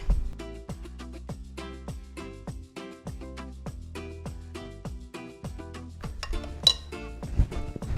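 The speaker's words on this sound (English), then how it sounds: "Take your spoon and give it another stir." A spoon stirs cookie dough with egg and vanilla extract in a bowl, giving a fast, busy run of bright clinks and taps against the bowl's side, close and loud with no talk.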